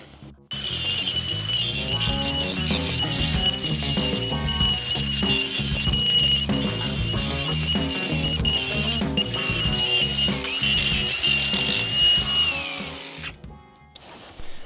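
A Milwaukee M12 die grinder fitted with a cutting wheel grinds a weld on the exhaust pipe of a BMW 1 Series E87. It gives a loud, close, continuous high whine for about thirteen seconds, then spins down near the end, with no talking.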